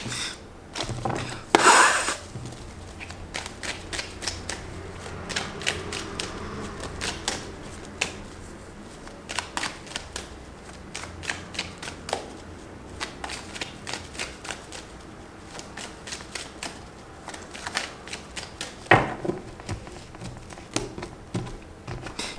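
Tarot cards are shuffled by hand during a reading, a long run of quick, crisp riffling and flicking bursts with brief pauses. Close and fairly clear, with a louder flurry near the start and another near the end, and no talking.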